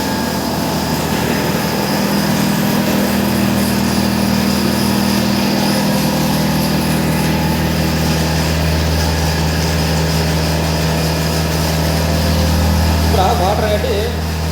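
A mixing turbine motor runs at a sewage treatment plant, giving a steady, loud mechanical drone with a constant low hum that continues unchanged throughout. A voice briefly rises over it near the end.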